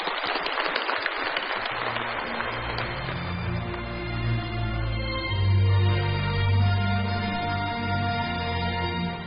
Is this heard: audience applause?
yes